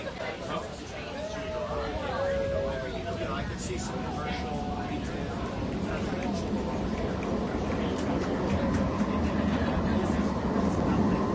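An O-Train Confederation Line light rail train on opening day rolls away with a building low rumble and rising motor whine that grows steadily louder, while a crowd of passengers chatters throughout.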